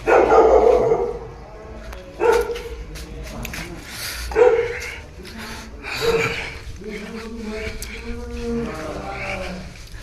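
A dog barks several times at irregular intervals, fairly close, amid people talking over it, at the Meladi Ma temple at Arajan Bari.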